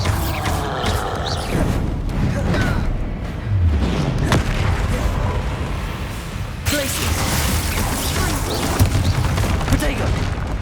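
A Bombarda explosion spell from Hogwarts Legacy bursts amid loud magical combat, with booming blasts and crackling impacts layered together, and a character's shouted incantations heard over the fight.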